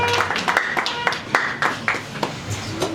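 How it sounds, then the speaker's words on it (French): A church congregation claps together after prayer at an inauguration in Kinshasa, with a loose series of close, sharp hand claps mixed with voices. "On acclame pour notre Dieu."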